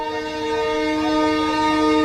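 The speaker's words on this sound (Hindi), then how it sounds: "ये है वो टेल्गो ट्रेन जो आज ट्रायल रन के लिए निकल पड़ी।" A Talgo train sets off on a trial run between Bareilly and Moradabad in India, producing a loud, steady tonal drone like a sustained horn or engine hum that swells slightly as it continues, with no talk.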